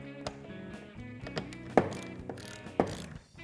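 Jeep JK factory seatbelt receiver coming off the seat base with a number 45 Torx bit, heard as a run of close metallic ratcheting clicks with two sharper clanks standing out, no voices.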